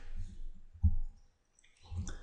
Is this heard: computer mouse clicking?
yes